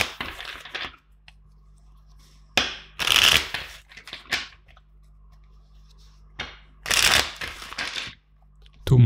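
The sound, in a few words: shuffling a deck of tarot cards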